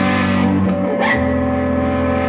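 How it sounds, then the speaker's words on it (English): Sustained electric guitar chords drenched in reverb from a pedal, ringing out with a long, spacious tail as a new chord is struck midway. "you're going to hear the effect kind of the reverb"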